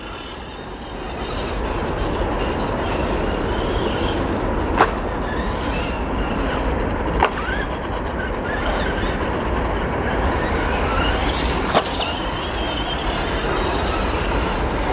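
An Arrma Gorgon RC truck grinds along a metal skate park rail, a steady, close, rough scraping roar with a few sharp clicks cutting through it.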